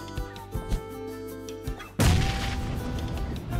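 A grenade explosion in the shooter game Game for Peace, a sudden loud boom followed by a lingering rumbling blast tail, preceded by a few soft thuds and game sounds.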